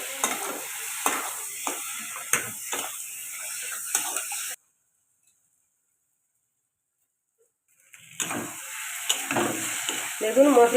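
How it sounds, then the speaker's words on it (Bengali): Spice paste with tomato and turmeric sizzles in a pan for chicken curry, with scraping stirs and clicks. The sizzle cuts out completely for several seconds midway, then resumes. "মশলাটা কিন্তু খুব ভালো করে ভাজিনি হাফ ভাজা করেছি"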